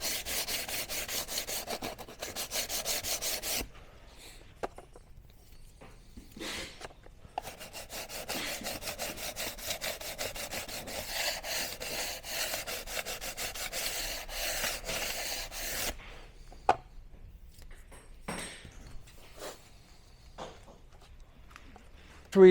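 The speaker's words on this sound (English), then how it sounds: "I'm just going to sand this off. That slight white edge there." Hand sanding the edge of a large aluminum photo print to remove a slight white edge, a steady scratchy rubbing in long continuous bursts with short pauses, close and fairly loud, no speech.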